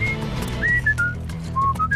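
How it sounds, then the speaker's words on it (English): Someone whistles the 1967 Spider-Man theme in short clear pitched phrases, close and fairly loud, over a low background bed from a film scene. "Peter also whistles the theme when stripping Alexei Savage,"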